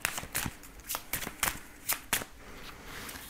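Tarot cards are shuffled by hand in a series of quick, crisp riffling bursts, close and fairly soft, with short pauses between the shuffles and no talking.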